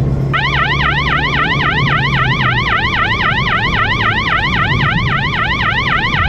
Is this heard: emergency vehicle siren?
yes